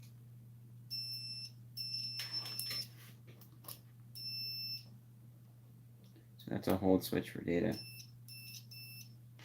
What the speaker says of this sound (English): Cool, it beeps.